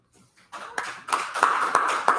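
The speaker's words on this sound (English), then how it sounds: "clap it up" A class audience at a Brotherhood class claps together, starting scattered and growing into steady applause with sharp individual claps standing out, close and fairly loud.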